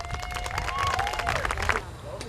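Scattered clapping from an audience at a school promotion ceremony for kindergarten and sixth graders, fairly faint, mixed with crowd babble and a few overlapping voices and tones.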